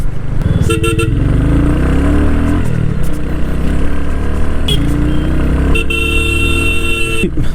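A Royal Enfield Hunter 350 motorcycle fitted with a 19-inch Meteor front wheel rides through busy city traffic, its engine a low steady drone while nearby car horns honk in short, repeated bursts.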